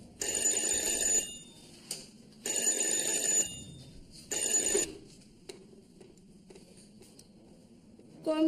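A police station desk phone rings in three repeated long bursts with short gaps, loud and close, followed by quieter clicks and handling noises and a faint sound at the end.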